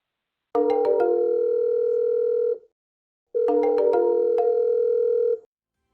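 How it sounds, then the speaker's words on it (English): Two long bursts of an electronic phone ring, each about two seconds with a short pause between, as a desk phone and a cell phone on one extension ring at the same time; clear and close, with no talk. "A call to extension 108 rings both the desk phone and the cell phone simultaneously."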